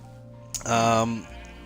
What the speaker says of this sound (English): Cow farm, push the button. Cows go moo, cows go bye bye.